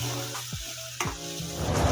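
Tomato and onion frying in a pan for Khandeshi shev bhaji, a steady close sizzle broken by a few stirring scrapes, with no voices.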